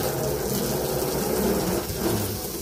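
A cheap handheld water nozzle sprays a steady jet onto a car, giving a continuous, loud, broadband hiss and gush that stays even from start to end with no gaps.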